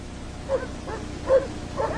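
Sled dogs at an Antarctic expedition camp yip, whimper and bark in short, fairly faint bursts over a steady hiss of old film noise.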